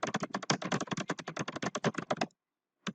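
Rapid, close typing on a computer keyboard, a dense run of crisp key clicks for about two seconds, then a pause and one last keystroke.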